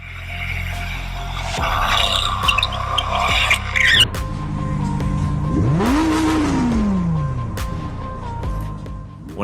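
A car engine revs hard, pitch climbing and falling in a sweeping vroom, loud and close, with mechanical clatter around it and no voices.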